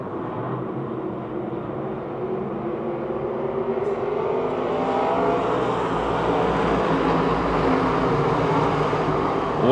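E-mod race cars roar around Pennsylvania Motor Speedway in a steady, droning wall of engine noise that swells slightly louder toward the end, heard from a distance across the dirt track.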